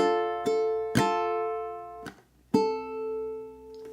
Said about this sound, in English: we're going to do the rasgueado strum on 2, and come up again on the end of 2 with the thumb